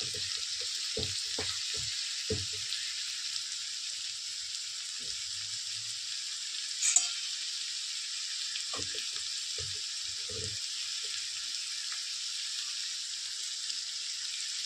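Curry sizzles and fries steadily in a pan as chili powder goes in, a constant close hiss with a few low clinks and knocks scattered through, no talking.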